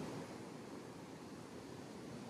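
A creek flowing past a campsite during high water, heard as a brief, steady, faint rushing wash with no other sounds.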